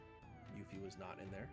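Cats meow in a cat house inside the video game Final Fantasy VII, their cries mixed with game music while someone talks over them.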